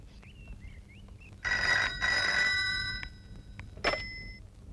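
A telephone rings indoors with two loud, bright electronic trills, then a short chirp and a brief final ring, all close and clear over faint room noise, preceded by soft tonal warbling.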